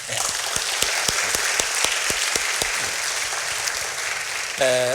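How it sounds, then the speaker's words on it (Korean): A church congregation at a Korean church service applauds its choir, a steady wash of many hands clapping close by, with a brief tonal sound entering at the very end. "우리 성가대 찬양하고 감사하고 또 감사하는 박수 한번 드리겠습니다"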